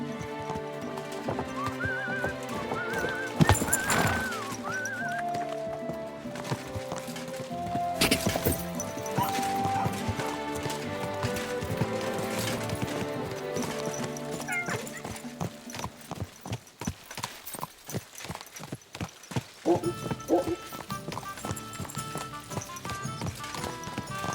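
Horse hooves clip-clop steadily in Kingdom Come: Deliverance II, mixed with a neigh, occasional thumps and background game music and ambience.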